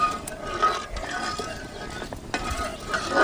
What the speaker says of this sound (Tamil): கிளறிக்கிட்டே இருக்கணும்